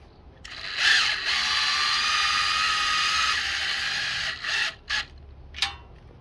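A power drill bores a hole for air conditioner brackets: one sustained high whine for about three seconds, then a few short bursts as the trigger is pulsed, loud and close.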